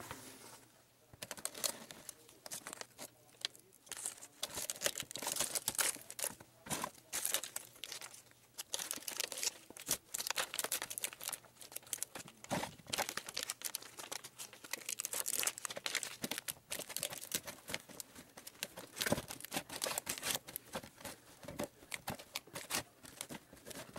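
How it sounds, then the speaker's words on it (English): Metal tabs on a paint bucket rocket stove bent down and wrapped with aluminum duct tape, a long run of close, quiet crinkling, tearing and tapping with irregular bursts and short pauses, no voices. "I can bend all of these tabs down and run some aluminum duct tape around it to hold it in place"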